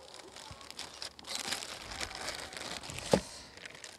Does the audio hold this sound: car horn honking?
no